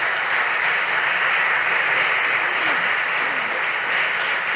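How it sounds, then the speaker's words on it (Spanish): Audience applause for a speaker at an education talk, a steady, even wash of many hands clapping at moderate loudness for the whole span, with no speech over it. "los invito a dar un fuerte aplauso al doctor Serafín Antúnez"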